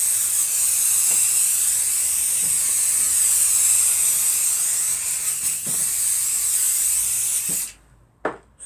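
Spray adhesive hissing steadily onto quilt fabric for a small baby quilt, a loud continuous close-up spray that cuts off near the end, followed by a short burst.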